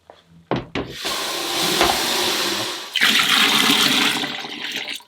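Hot water poured manually into a Miele W1 Excellence washing machine: a few short knocks, then a sustained loud gushing rush that briefly dips and surges again before cutting off.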